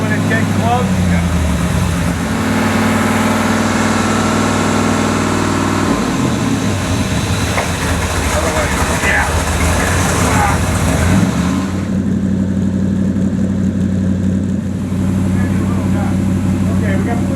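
A 1965 AMC Marlin engine starting up for the first time, then a steady, loud low idle with a rough rumble and shifts in pitch. People talk nearby throughout.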